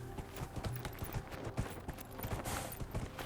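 A Qunari horse ridden in Dragon Age: Inquisition: steady galloping hoofbeats in a quick, continuous clip-clop rhythm, fairly loud, with a dense game soundscape behind them.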